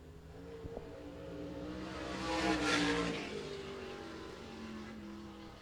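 A race car engine on track swells as the car passes, rising to a roaring peak mid-way and then fading, heard from a distance with a steady low background hum and no talk.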